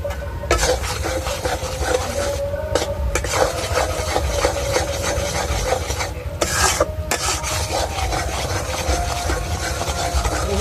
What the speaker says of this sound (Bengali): এটা ভালো করে পাক দিতে হবে যতক্ষণ চিচিটে খাওয়া